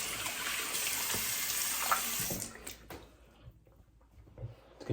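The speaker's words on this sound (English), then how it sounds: "all you gotta do is rinse off" Tap water runs steadily as a face is rinsed after a three-pass safety razor shave, the splashing flow continuing for over two seconds before cutting off, leaving quieter drips and small handling noises.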